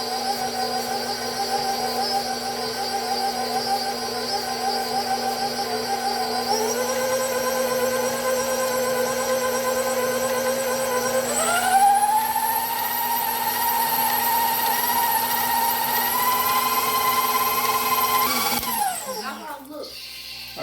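Electric stand mixer beating sugar into pound cake batter for peppermint crunch pound cake, a steady continuous motor whine that shifts up in pitch as the speed is raised, then slows and stops near the end.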